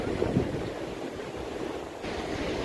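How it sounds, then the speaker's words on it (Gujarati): Sea waves at Umbergaon beach make a constant broad wash of surf, close and fairly loud, mixed with wind buffeting the microphone. "સુંદર ઉમરગામનો દરિયો છે."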